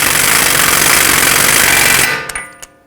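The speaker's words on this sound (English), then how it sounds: "I'm gonna bottom it out with a power tool" Power tool, an impact-type driver, bottoming out the axle nut on a 2012-2017 Toyota Camry front axle, a loud continuous hammering rattle for about two seconds that then stops, followed by a few faint metallic clinks.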